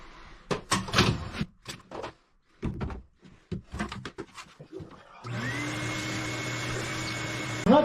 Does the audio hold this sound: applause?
no